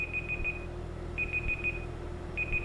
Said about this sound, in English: 3 seconds left. It's beeping now.